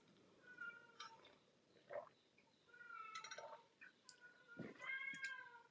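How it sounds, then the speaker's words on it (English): A cat meows repeatedly at close range, several short and drawn-out cries spread across a few seconds, faint and with no talking. "If you can hear that cat, it's not a baby crying. It's a cat."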